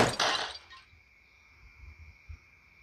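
A firecracker's sudden sharp blast shatters a flower pot with crunching debris, then a lingering high ringing and a few soft thuds as fragments settle.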